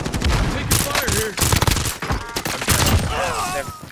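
Rapid gunfire rattles through an online multiplayer shooter video game, dense automatic bursts and scattered shots mixed with shouted voices and game effects, loud and nearly continuous across the short stretch.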